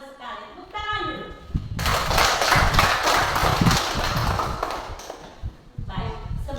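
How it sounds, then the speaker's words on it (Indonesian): Classroom of schoolchildren clapping hands together, a dense, sustained burst of loud claps lasting several seconds, with children's voices before and after. "Tepuk tangan dulu."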